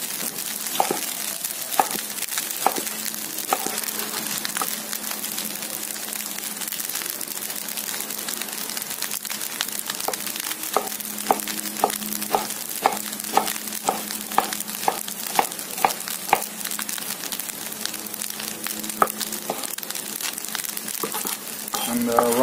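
Bok choy stir-frying in a wok for chicken fried rice, a steady loud sizzle with repeated scraping and tossing clinks of the spatula throughout.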